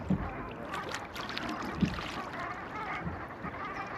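A small rowing boat is turned around on open water where Brent geese are landing, giving soft, faint oar splashes and knocks with a low wind and water wash underneath.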